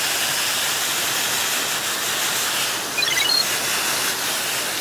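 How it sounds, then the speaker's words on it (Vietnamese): Water spraying steadily onto orchid roots during washing, a broad, even hiss from start to finish that roughens briefly partway through. "Đây, mình đưa vô rửa nè."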